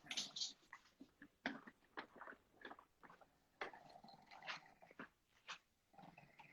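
A small pet dog whimpers and yelps in a run of short, high, nasal bursts with brief pauses, fairly close and moderately loud, with no talking over it.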